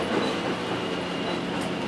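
The Echigo Tokimeki Resort Setsugekka sightseeing train backs slowly out of a switchback station on a snowy mountain main line, giving a steady low rumble of wheels and running gear with faint rail clatter, close and continuous.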